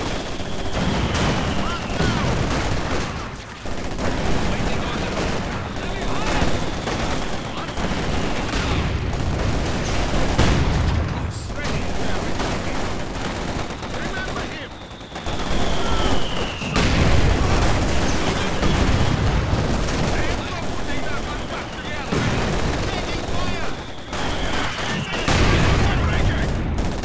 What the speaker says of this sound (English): Shooting us up! They are killing us! Under fire!